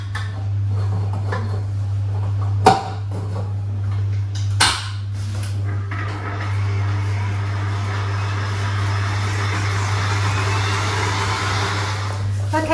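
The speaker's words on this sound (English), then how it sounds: "So back to the mixer again." An electric food mixer whirs steadily as it beats butter with chilli, grated ginger and lime zest, a constant close motor drone broken by a couple of sharp knocks early on, with no talking over it.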